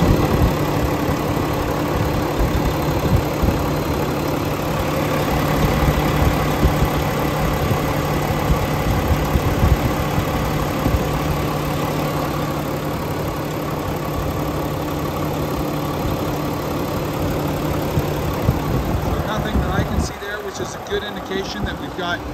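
A 2014 Volvo VNL670 truck's D13 diesel engine idles steadily, a constant low rumble with a droning hum that continues for about twenty seconds before shifting slightly.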